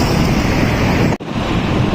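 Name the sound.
strong wind on a high city flyover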